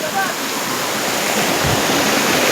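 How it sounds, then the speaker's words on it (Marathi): A small outdoor waterfall pours in a constant rushing roar close by, with faint voices briefly audible near the start. "हा बघा मागं धबधबा आहे"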